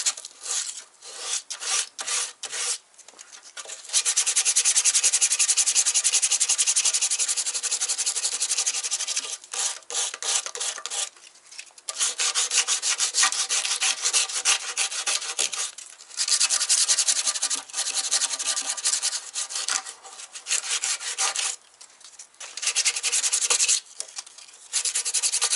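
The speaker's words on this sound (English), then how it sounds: "just start sanding until the lines meet the body," VW MK2 engine bay bodywork being sanded by hand, a close, loud, rough scratchy rubbing in long back-and-forth strokes with brief pauses between bouts, no voices.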